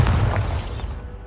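A Bombarda spell in Hogwarts Legacy detonates in one loud, close, deep boom that quickly decays over about a second.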